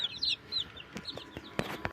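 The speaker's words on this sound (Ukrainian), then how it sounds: "ось така в нас тут купочка курчаток" Small chicks cheep with high chirps, with a few sharper clucks and bumps, close by.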